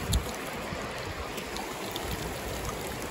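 Seawater sloshes and trickles as beach trash is rinsed at the Latvian shoreline, a steady close splashing wash with a small bump of water near the start and no voices.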